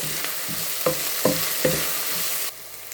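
Curry leaves sautéing in a pan for Kerala-style potato stir-fry, with a steady frying sizzle and several sharp spatula scrapes and stirs close by, then the sizzle drops to a low hiss near the end.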